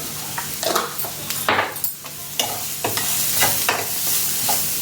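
Onions sauté in a pan with salt and ground pepper, stirred briskly so that repeated scraping swishes ride over a close, continuous sizzle, with no talking.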